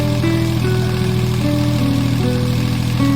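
An old, repaired tractor engine runs loud and close, a steady idling drone with a continuous low throb.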